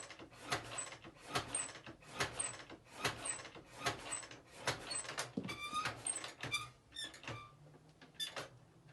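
Engine cranked over in fourth gear with the spark plugs removed, giving a steady series of rhythmic mechanical thumps about twice a second with squeaky, clanking overtones, fairly close and without talk.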